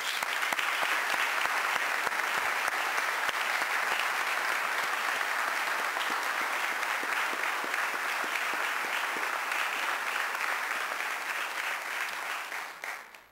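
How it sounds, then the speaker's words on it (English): A large crowd at a mayor's budget address applauds steadily and loudly for over ten seconds before the clapping fades out at the end. "give Barbara Ash a big round of applause"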